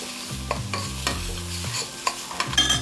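Rice toasting in butter with cumin and turmeric for Greek yellow rice, heard as repeated scraping stirs and rattling grains over a soft sizzle, close and busy, no talking.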